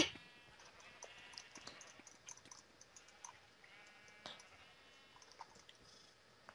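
Minecraft sheep bleating in a game mini quest, several short quiet bleats scattered over a low background with light mouse or keyboard clicks.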